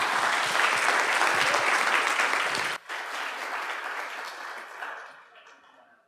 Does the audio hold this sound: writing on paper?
no